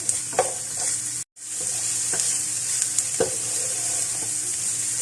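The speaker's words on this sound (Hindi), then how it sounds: "2 छोटे प्याज थे जिनको मैंने छोटा छोटा काट लिया, ये डालेंगे। हल्का सा इसको सॉफ्ट करेंगे।" Two small chopped onions soften in a pan for chicken spring rolls, giving a bright, constant sizzle close up with several stirring knocks and a brief cut to silence early on.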